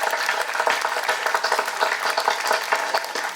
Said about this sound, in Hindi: हम 60वां जन्म दिवस मना रहे हैं, तो हम सबसे पहले जोरदार तालियों से अपने दिल के भाव व्यक्त करेंगे।